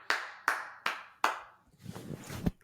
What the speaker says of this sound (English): I apologize for the echoes on my clap.